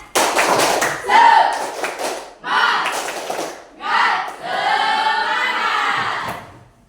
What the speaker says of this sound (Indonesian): Kita tepuk semangat dulu lagi ya.